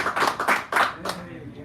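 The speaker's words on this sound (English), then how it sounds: "Give Garrett a round of applause, please." Audience applause at a poetry hour in a San Francisco cafe: a short burst of close, uneven hand clapping from a small crowd that fades after about a second, with voices murmuring beneath.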